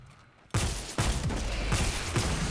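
Loud bursts of sniper fire in a video game battle near a bridge, three or four heavy cracks spaced roughly half a second apart over a dense, noisy background.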